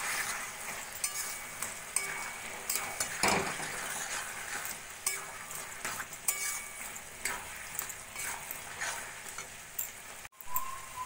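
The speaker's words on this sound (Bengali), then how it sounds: "সবকিছু ভালো করে মিশিয়ে নেব।" Bottle gourd curry with broken fried lentil dumplings and roasted spices is stirred in a pan over a gentle sizzle, with a spoon scraping and knocking against the metal in irregular strokes, close and alone.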